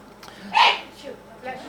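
One short, sharp human sneeze in a quiet room during a talk on backyard birdwatching, close and fairly loud, with faint murmurs around it.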